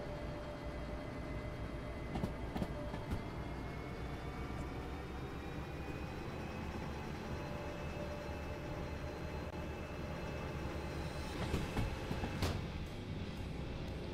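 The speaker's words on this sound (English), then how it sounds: "let's get this train moving" A heavy train engine in the video game Derail Valley drones and rumbles steadily as it gets underway, with a faint rising whine and occasional clanks, no talking.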